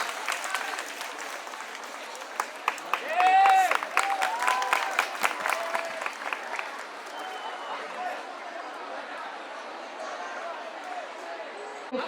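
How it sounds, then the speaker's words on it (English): A college audience at a Dasara event in Kerala applauds a gift presentation, scattered clapping mixed with loud cheering and voices from a crowd, with whistles and shouts rising near the start and settling into steadier clapping. "Please give a huge round of applause."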